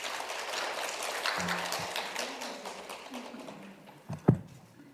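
Applause from an academic conference audience builds and then thins out, with a scatter of claps tapering away, a couple of sharp knocks near the end and a voice briefly audible.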